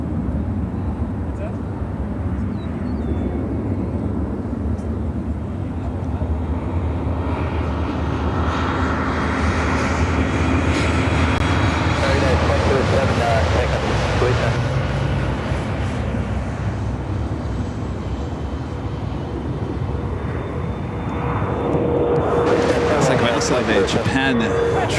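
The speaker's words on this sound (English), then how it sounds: "We have a FedEx 777 will be taking off." A FedEx Boeing 777 takes off at Chicago O'Hare, its jet engines roaring steadily and swelling to a loud peak before easing off, with a voice talking over the noise.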